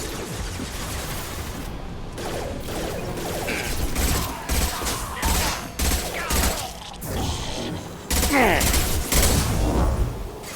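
Gunfire in Mass Effect 2 Legendary Edition, repeated loud rapid bursts and mechanical clatter in a busy combat mix, with voices talking over the action.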